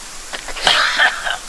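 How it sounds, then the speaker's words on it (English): A person with a common cold coughs several times in quick succession, close and fairly loud, a short cluster of harsh bursts with no talk over them. "I thought Riding heard the sound of you coughing"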